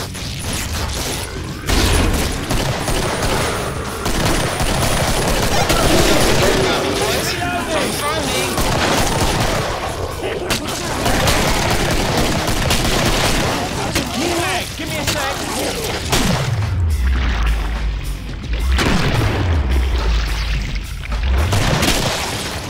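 Dense, continuous gunfire and booming blasts in the co-op zombie shooter Killing Floor, loud and relentless throughout, with deep low thuds swelling near the end.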